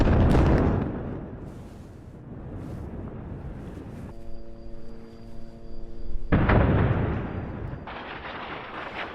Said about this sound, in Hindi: धमाकों की आवाज से पूरा बेरूत दहल उठा